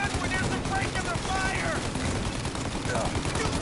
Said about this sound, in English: I'm shooting through the break.